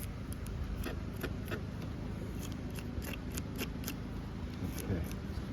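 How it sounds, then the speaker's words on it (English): Rat 1.5 knife with a MagnaCut blade scraping scales off a freshly caught bluegill outdoors, a rapid run of short, crisp scratching strokes repeating steadily over a low rumbling background. "Pretty good for scaling bluegill."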